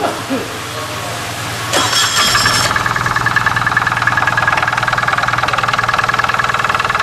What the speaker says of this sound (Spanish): enciende el motor, Jaime, a ver